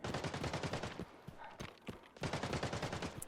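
Automatic gunfire in the shooter game Arena Breakout Infinite, a rapid, loud burst of shots that pauses briefly in the middle, then resumes as another sustained rattling string.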